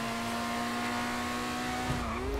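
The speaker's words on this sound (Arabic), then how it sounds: "سمع صوت السياره كيف طرب" A car engine in GTA 5 Online drones loudly at steady high revs and then shifts pitch at the end, close and with no talk over it.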